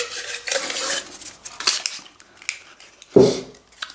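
Paper leaflet being pulled out of a stainless steel tankard, with light scraping and rustling, small metallic clinks, and a sharper knock near the end, close and fairly quiet.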